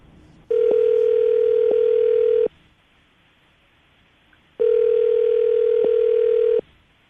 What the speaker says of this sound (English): We're going to call this number, see if we get him on the phone